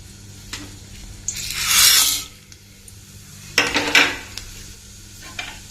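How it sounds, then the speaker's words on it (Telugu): Tempering seeds and a dried red chilli crackle in hot oil in a steel pan, with a loud sizzling burst, a quieter stretch, then a second sputtering flare, all close by and without any talking. "ఇప్పుడు పోపు గింజలు వేసేసుకున్నాం."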